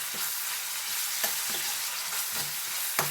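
Masala for a tomato egg curry fries and sizzles steadily in a pan, with a few soft spoon scrapes as it is stirred, close and alone.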